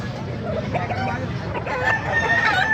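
Roosters and hens at a poultry market in Baliuag crow and cluck through a steady murmur of nearby crowd chatter, with a clearer crow rising toward the end.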